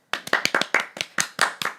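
A small studio audience claps hands for a newly engaged couple: about a dozen sharp, close claps in a quick, slightly uneven rhythm, with no talking over them.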